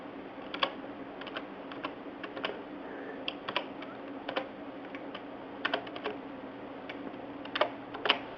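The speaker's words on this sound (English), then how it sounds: "Let me go to Google," Rapid light clicks of fingers typing on a computer keyboard, irregular bursts of keystrokes with brief pauses, close and fairly quiet, no voices.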